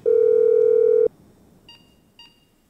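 A phone in GTA 5 is dialed to set off a planted bomb: one long, loud keypad tone is followed by a few short, quieter beeps.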